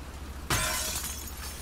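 Glass shatters in The Last of Us Part 2: a sudden loud crash with a bright, spraying burst of shards that stays dense to the end, over a steady low game hum.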